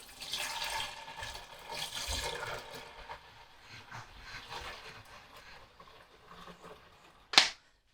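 Cold water pours and splashes into a Pinter beer-brewing container for a few seconds, then trickles off into quiet before one sharp click near the end.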